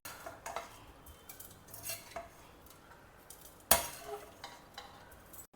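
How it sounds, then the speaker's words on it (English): Cooked podi rava idli being moved into a serving dish: scattered light clinks and scrapes of a utensil against the dish, with one sharp knock partway through. No one speaks. "I'll just transfer it into a serving dish."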